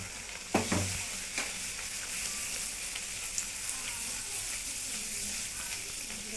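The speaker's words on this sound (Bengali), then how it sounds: "এইভাবে আমি এক এক করেই সব ভেজে নেব" Dal puri frying one at a time in hot oil, a steady soft sizzle with a few sharp splashes and clinks as pieces are stirred or turned.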